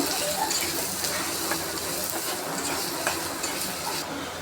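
Chopped onion and green chili frying in oil in a pan, a steady close sizzle with occasional stirring scrapes throughout, no one talking.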